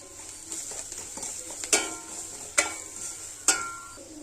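Carrot rice with spices is stirred in a pan, with a soft scraping sizzle and three sharp spatula knocks against the metal spaced about a second apart. No one speaks.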